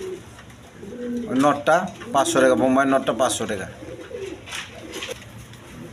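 Pigeons at a pigeon sale, including baby birds a few feathers old, coo loudly and repeatedly close by while someone talks over them, the calls blending with his voice.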